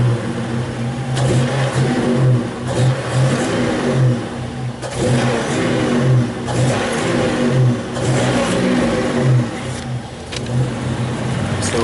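A Buick Grand National engine revs hard as the throttle is snapped repeatedly, a loud, close, rising and falling roar with a rhythmic pulsing note running through the whole stretch.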